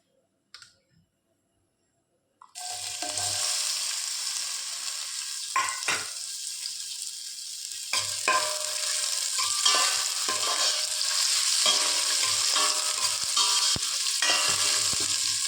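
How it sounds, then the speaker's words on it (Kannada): A large onion sizzles in hot oil in a pan: brief quiet, a few small clatters, then a loud, steady frying hiss with occasional stirring scrapes. "ನೀರುಳ್ಳಿ ಕಾಯಿಸಲಿಕ್ಕೆ ಮಾತ್ರ."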